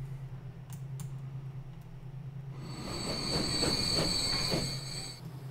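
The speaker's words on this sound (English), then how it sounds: "There's an up freight train." Freight train passing in the railway game Transport Fever on the Great Western Main Line, a low engine hum that swells into loud rolling wheel noise with clacking and a steady high squeal, alone with no talk.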